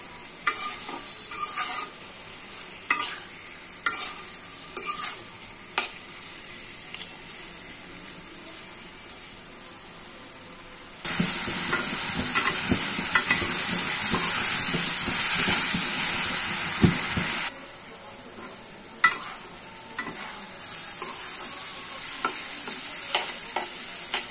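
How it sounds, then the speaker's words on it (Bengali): Chopped onions fry in oil in a pan with a spoonful of salt for a fish curry, a soft sizzle broken by occasional spatula taps, then a louder, denser hissing stretch midway before settling back. "পেঁয়াজগুলো আমি ভালোভাবে ভাজা ভাজা করে নিয়েছি।"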